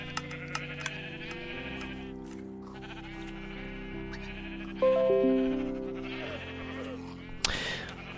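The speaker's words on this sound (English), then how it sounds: "seems to have a number of white sheep." Sheep in a Minecraft wool farm bleat repeatedly, several overlapping wavering calls close by over a steady game background, with a louder burst midway and a sharp click near the end.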